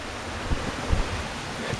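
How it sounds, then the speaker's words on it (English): A brook flowing beside a campsite on West Kill Road, a steady broadband rush of running water with faint low thumps, heard alone and fairly close. "here's the Betty Brook"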